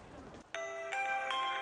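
A mobile phone rings with a bright electronic melody, its tones entering in repeated bursts, close and fairly loud after a short stretch of quieter background.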